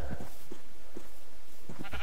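Sheep in a Minecraft FTB Direwolf20 modpack world, giving short, soft bleats in quick succession over a couple of seconds, close and without speech.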